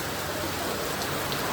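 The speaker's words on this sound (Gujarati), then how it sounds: "એકદમ અચાનક વરસાદ આવ્યો છે." Sudden heavy rain pouring down, a dense, continuous patter of drops hitting surfaces, steady and close with no pauses.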